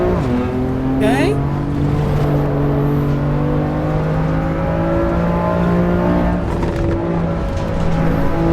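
Race car engine in the Assetto Corsa EVO racing game, loud and close, its pitch sliding down through gear changes and deceleration with a short whine burst early on, while someone talks over it.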